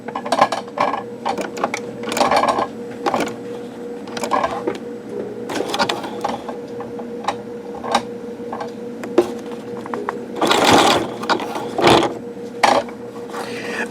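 An industrial sewing machine fitted with a size 18 leather needle stitches a two-color diamond-braided rope bowl in short bursts of rapid mechanical ticking and whirring, near and moderately quiet with pauses between runs.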